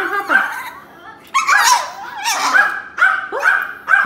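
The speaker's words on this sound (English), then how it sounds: "Puppy's coming." A puppy barks and yips repeatedly in short bursts close by, with whimpering tones between barks, in a home setting.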